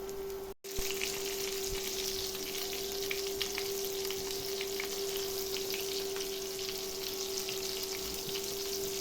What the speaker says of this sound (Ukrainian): підсмажились, перевернули і потім отак смажимо всі абсолютно